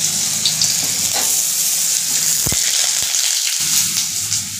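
Potatoes frying in hot oil in a wok, a steady loud sizzle and crackle with occasional spatters and a sharp clink partway through, no voices.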